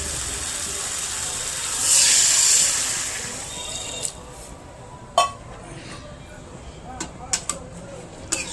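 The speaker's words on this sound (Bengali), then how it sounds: "এবার একটু জল মিশিয়ে দেবো।" Water poured into a pot of Bengali fish curry with potatoes and cauliflower: a short hissing splash, then a few light clinks of utensils against the pot.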